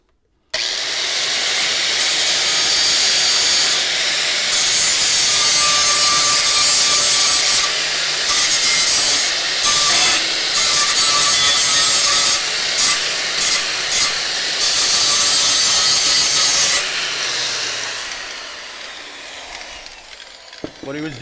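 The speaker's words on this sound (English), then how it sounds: "What he was doing there, guys, is called deburring." A metal edge is deburred with a file or grinder in a home garage, making a loud, close, continuous rasping grind that runs for most of the stretch with brief breaks and a fading end.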